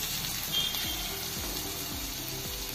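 Chopped garlic and ginger fry in hot oil for a palak chana dal dish, a steady close sizzle with regular scraping strokes as a spoon stirs the pan about every half second.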